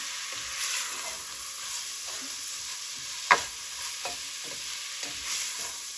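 Garlic, thyme and parsley sauté with vegetables in a soup pot, giving a steady soft sizzle under a few spoon stirs and one sharp scrape or clink near the middle.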